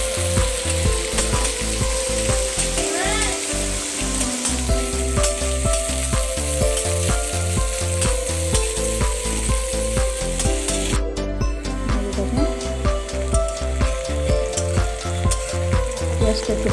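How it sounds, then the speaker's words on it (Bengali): Chopped onions with bay leaf sizzle and fry in oil in a wok while being stirred, a continuous loud crackling hiss with rhythmic scraping and clinking of the spatula throughout. "পেঁয়াজটা একটু ভাজা ভাজা হয়ে এসছে।"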